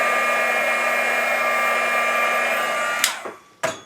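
A heat embossing tool blows hot air to melt embossing powder on chipboard. Its steady whirring fan roar sounds close and loud, then cuts off abruptly, followed by a brief clatter and a short second burst.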